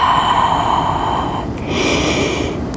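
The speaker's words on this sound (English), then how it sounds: "So breathe." Deep breathing during a movement exercise: a long nasal inhale followed by a breathy exhale, close and steady, with no words spoken.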